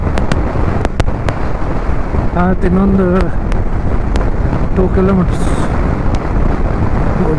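Heavy, constant wind roar buffets the microphone on a moving motorbike throughout, with someone talking over it at intervals.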